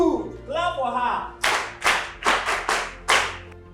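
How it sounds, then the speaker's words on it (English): Schoolchildren at a learning centre in Northern Nigeria clap for a classmate who answered a question: a voice speaks first, then a series of loud group claps in uneven bursts, near and full. "clap for her"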